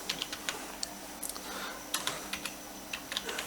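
Light, quick keystrokes on a computer keyboard while entering text in an Excel spreadsheet, scattered irregular taps over a faint steady background hiss, fairly quiet and close.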